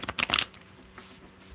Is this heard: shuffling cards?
yes